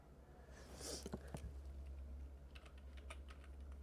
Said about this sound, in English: Hang on, I'm doing typing.